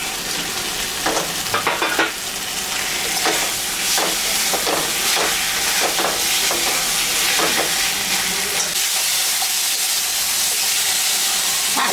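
Prawns sizzle and fry in a pan while shola kochu curry is cooked, a steady loud hiss with intermittent sharp crackles and stirring scrapes, dying down toward the end, with no talking.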